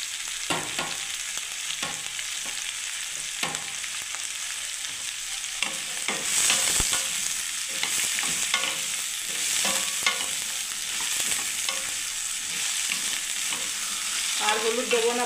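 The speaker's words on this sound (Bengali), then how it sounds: "এবার আমি ভাজতে থাকবো" Okra frying in a pan with mustard-poppy paste, a steady hiss of sizzling oil broken by repeated scraping stirs of a spatula, close and fairly loud throughout, no talking.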